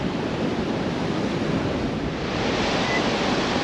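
Wind blowing hard along the beach at Ngkala Rocks on Fraser Island, a constant loud roar of gusts mixed with rolling surf, steady throughout with no speech.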